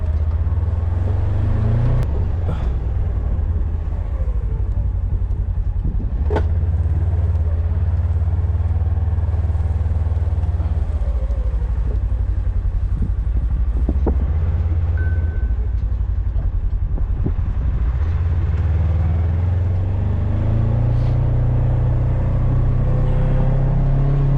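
Sunday-morning road traffic rumbles past in a constant low roar, loud and close, swelling as heavier vehicles go by, with no speech.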